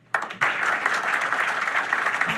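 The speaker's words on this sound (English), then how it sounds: "big round of applause for all of you being here today." Applause from an audience at a charity event in Idaho starts suddenly after a brief lull and holds as a dense, steady round of clapping, fairly close and loud, with no talk over it.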